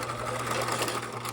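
A sewing machine runs continuously while stitching a rolled hem, a steady close mechanical whir with fast rhythmic needle ticking.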